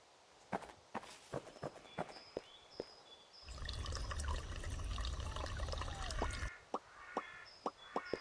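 Watering freshly planted seeds in the video game Pumpkin Panic: a steady pouring, splashing water sound runs for about three seconds, loud and close, set between soft, evenly spaced footstep taps before and after.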